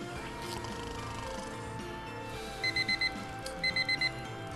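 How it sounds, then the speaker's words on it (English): An alarm clock in a video game beeps in two quick bursts of four electronic tones, rising clearly above a dense, steady backdrop of game music and ambience. "And with that alarm buzzing in my ear"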